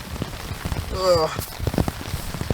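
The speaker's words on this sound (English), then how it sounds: "All the pitter patter of rain outside is causing the condensation to pitter patter inside." Rain patters on a tent during a storm on a mountain, soft scattered taps close by, with a brief tonal whine near the middle and faint bits of voice.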